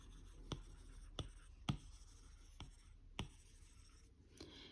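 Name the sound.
writing with stylus on tablet in Goodnotes app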